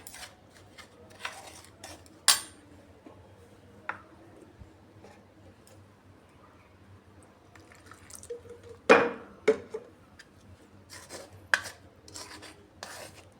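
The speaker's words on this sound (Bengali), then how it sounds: "এবার এটাকে আমি জল দিয়ে ভালো করে গুলে একটা ঘন ব্যাটার বানিয়ে নিচ্ছি" A spoon scrapes and clinks against a bowl while rice-flour batter is mixed with water, giving intermittent rasping strokes and sharp taps, close and fairly quiet, with pauses between bursts.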